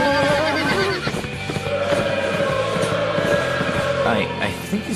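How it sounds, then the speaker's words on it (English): A horse neighs loudly over the rumble of galloping hooves, with music playing underneath, in an English-dubbed anime episode. "I think he's riding a wild horse."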